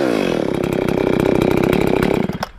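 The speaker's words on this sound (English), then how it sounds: "cut one or two pieces of firewood off." A chainsaw runs loud and close, its engine snarling steadily while cutting firewood from brush, then dropping off at the end of the cut.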